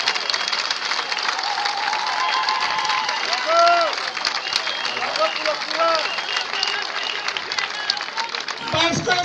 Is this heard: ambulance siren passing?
no